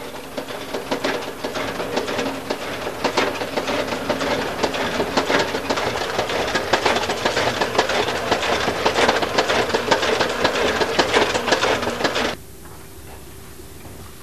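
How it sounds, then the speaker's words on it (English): A tatami-mat sewing machine runs steadily for about twelve seconds, a dense rapid mechanical clatter with rhythmic stitching pulses, then cuts off and leaves a quieter motor hum. "There are two types of machine used for sewing tatami mats."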